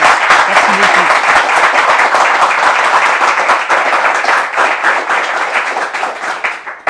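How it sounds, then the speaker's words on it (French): An audience at a French-language church discussion program applauds loudly and continuously, a dense, close roll of many hands clapping that fades slightly toward the end. "on applaudit très fort ces différentes interventions"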